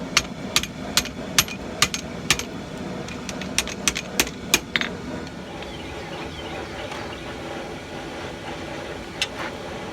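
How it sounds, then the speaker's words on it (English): Sharp metallic hammer strikes on hot forged steel tongs ring out in quick irregular bursts, denser at first, then sparser, over a steady low workshop hum. "And then bend and hammer them together how you want them."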